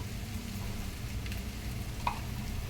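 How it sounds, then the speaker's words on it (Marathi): A spoonful of ghee sizzles in a kadhai with a steady, soft frying hiss and a few faint clinks, heard alone without talk. "इथे मी एक कढई ठेवली त्यामध्ये आपण घालतो एक चमचा तूप"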